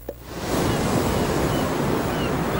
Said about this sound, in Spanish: Si te pones una caracola en el oído,